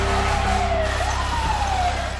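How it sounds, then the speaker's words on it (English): Loud, wailing sirens from fire engines and police cars sweep up and down over a steady rumbling traffic drone, close and continuous. "hear this just deafening roar of fire engines and police cars"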